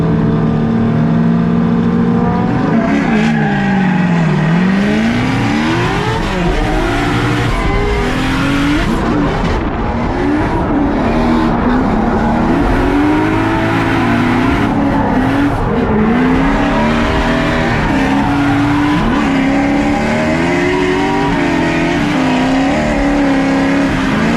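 Drift cars battle in a tandem competition run, engines revving hard and rising and falling in pitch while tires squeal continuously, loud and close throughout.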